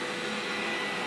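A robot vacuum cleaner runs with a steady, even whirring hum, close and uninterrupted for about a second with no voices.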